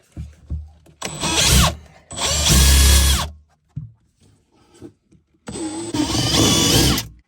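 A power drill runs in three loud bursts, whining and grinding while drilling holes for a Polaris Ranger XP 1000 cab heater install, with short quiet gaps and small handling noises between.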